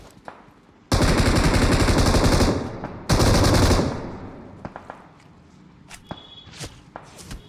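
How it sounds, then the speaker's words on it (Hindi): Video game gunfire crackles in two loud bursts of rapid automatic shots, the second shorter, separated by a brief gap and followed by scattered faint footsteps and small clicks. "भाई वहां से फेंक रहे हैं गोलियां"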